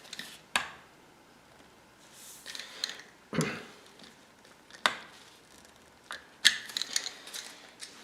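Barrel screws on a CZ 457 rifle are snugged down by hand, giving a handful of sharp, isolated clicks and small metallic scrapes spaced a second or so apart, close and fairly quiet in an otherwise still room.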